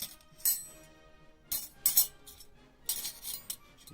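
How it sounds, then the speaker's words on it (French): American military spoons and forks, army mess-kit cutlery, clink together in several short, bright bursts separated by near silence, with no talking. "j'ai trouvé 1, 2, 3, 4 cuillères et 3 fourchettes américaines"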